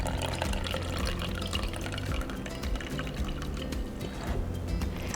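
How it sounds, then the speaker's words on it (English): Cold brew coffee is poured from a container into a glass, a steady, soft trickling and splashing of liquid that runs for several seconds close by. "pour some coffee into this glass"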